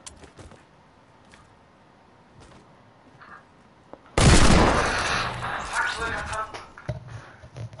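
Gunfire in a competitive shooter game bursts in loudly and densely halfway through, following a quieter stretch with scattered clicks; a sustained volley of shots under occasional talk.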